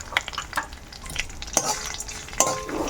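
Tomato mixture frying in a pan while being stirred, a steady close sizzle broken by repeated scraping strokes and a couple of sharp clinks of the spoon against the pan.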